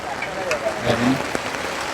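Heavy, unbroken rain pours over a flooded Dhaka street during a light storm, making a steady close hiss with brief soft bursts and faint background tones.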